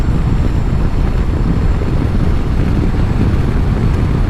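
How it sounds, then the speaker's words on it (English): A new Harley-Davidson motorcycle gives a throaty intake roar while riding, heard as a continuous broadband rumble mixed with heavy wind buffeting at the microphone. "On the new Harleys, you really hear the intake anyways"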